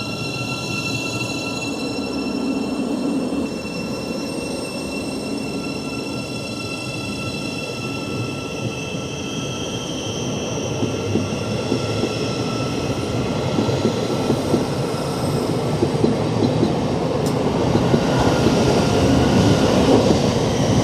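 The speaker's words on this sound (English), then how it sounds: "we've actually got a ThamesLink coming in" A Thameslink train pulls into the platform at Royston station with a rumbling roll and high wheel squeal that build steadily louder as it draws close, with no one talking.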